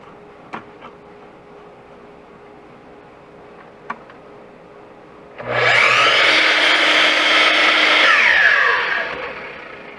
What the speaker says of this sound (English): So I'm able to cut dados with this sliding chop saw.